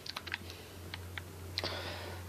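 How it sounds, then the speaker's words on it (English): Keys clack on a computer keyboard in a 2014 bedroom gaming setup, a sparse, uneven run of close, crisp taps against a faint low background hum. "here's my keyboard"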